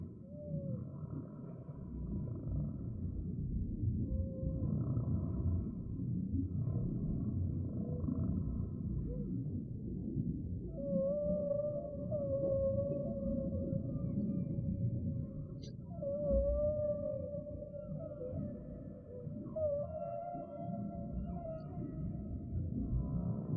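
Long, low whale calls, drawn-out tonal moans and rising whines, drift over a dense rumbling underwater bed, moderately loud and continuous throughout, with no talk.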